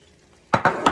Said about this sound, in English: We're going to stir that all in, stir it around, get that all mixed in together.